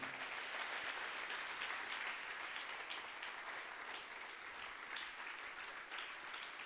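A church congregation applauds, a steady wash of many hands clapping at once that keeps going without a break, fairly even in loudness and heard alone with no voices over it.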